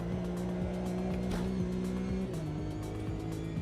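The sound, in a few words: race car tyres squealing in AMS2 racing video game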